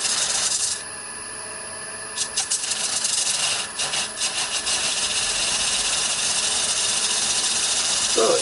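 A wood lathe turning a piece of wood against a homemade steady rest fitted with roller-skate wheels, a steady motor whir with bursts of rubbing, rasping contact and brief scraping clicks, close and fairly loud.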